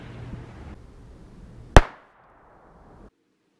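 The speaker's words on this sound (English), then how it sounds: "First shot, M&P 22LR." A single sharp gunshot from an M&P 22LR pistol fired about one yard from the listener, a loud close crack with a short ringing decay, standing alone against a quiet background.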